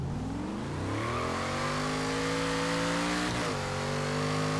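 A 1970 Chevy Chevelle V8 in Forza Horizon 3 held at steady revs, giving a loud continuous engine drone with the pitch rising slightly and then dipping near the end.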